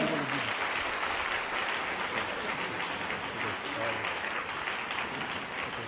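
A church congregation applauding to acclaim Jesus at a bishop's investiture, dense sustained clapping from a large crowd throughout, with no break.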